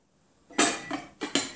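A dish clatters into a microwave with sharp clinks and knocks of crockery, loud and close, several quick contacts in a quiet kitchen.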